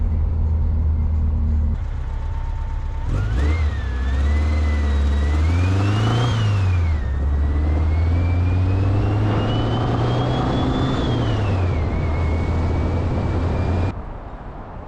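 A truck engine drives close by, running steadily, then revving up and easing back through a couple of gear changes, loud and continuous with no one talking.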